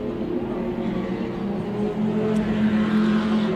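Race cars circulating at the Brno circuit during an FIA CEZ D4/D5, GT Cup, P9 and SCC race, a steady loud engine drone with droning tones that swell slightly, no talk.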